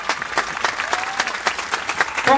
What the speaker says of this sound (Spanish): le brindemos un aplauso a don Enrique Sánchez